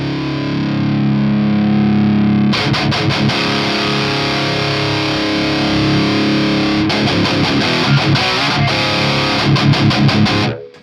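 Electric guitar played through a RedSeven Amp Central EVO with the input turned up high, giving harsh, heavily distorted, gritty chords and choppy strummed bursts, loud and close, with no voices.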